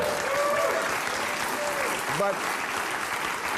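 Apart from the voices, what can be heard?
audience cheering and applauding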